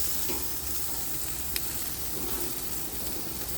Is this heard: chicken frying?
yes